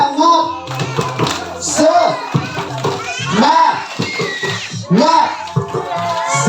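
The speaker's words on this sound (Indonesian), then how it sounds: "kita tepuk semangat ya" Children at a coloring contest in Kediri perform a rhythmic spirit clap, with hand claps mixed into loud group chanting and children's voices throughout.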